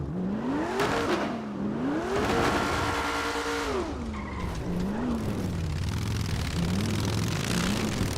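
A knockoff Wrangler in a video game revs up and down repeatedly, its engine pitch rising and falling in waves alongside tire skids, loud and close.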